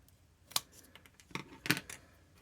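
Small cuts being made with scissors while crafting miniature bathroom accessories for a dollhouse: a few quiet, sharp snips and clicks, close up and spaced irregularly, with no talking.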